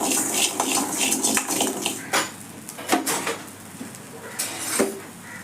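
Dry rock salt being roasted and stirred in a pan for black urad dal idli podi, heard as steady gritty scraping and rattling with a few sharper metallic knocks, close and continuous with no talking.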